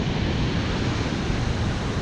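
Sea waves roll onto a North Norfolk beach in a strong tide, making a loud, continuous broadband wash and rumble mixed with wind buffeting the microphone, with no voices.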